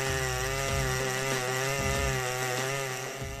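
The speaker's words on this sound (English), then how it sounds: "take on the challenge of felling majestic dead oak logs" Chainsaws felling and cutting dead oak logs, a Stihl-type saw engine running loud and steady at high revs with slight load changes as the chain bites into the hard wood.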